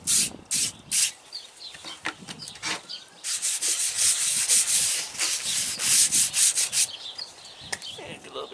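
An O1 steel knife blade is rubbed back and forth across a sharpening stone lubricated with WD-40, giving close, rhythmic scraping strokes, some short and separate, others longer and run together.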